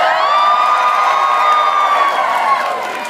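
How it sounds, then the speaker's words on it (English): An audience at a fan convention script reading cheers, whoops and shouts loudly and steadily for about three seconds, fading slightly at the end. "The crowd cheers Membrane."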